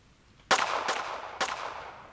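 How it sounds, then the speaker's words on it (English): Three sharp gunshots ring out in quick succession, each with a short echoing tail, close and loud. "3 quick gunshots, one after another"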